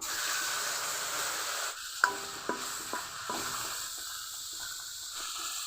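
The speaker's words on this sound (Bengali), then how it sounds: "বন্ধুরা এখন মশলা কষিয়ে নিব প্রথমে দিয়ে দিব পেঁয়াজের পেস্ট" Onion paste hits hot oil for a fish korma, giving a steady sizzling hiss followed by several sharp spatters and scrapes as it is stirred, close and clear.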